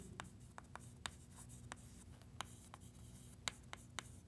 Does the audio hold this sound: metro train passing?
no